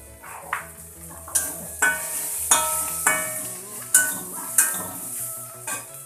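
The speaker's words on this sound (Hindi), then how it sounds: "ये हमारा मसाला भून, मिर्ची पाउडर ऐड करूंगी, थोड़ा सा जीरा पाउडर भी।" Masala with chili and cumin powder fries in a pan for aloo chaat, a bright sizzling hiss punctuated by regular scraping stirs of a spoon against the pan, close and alone.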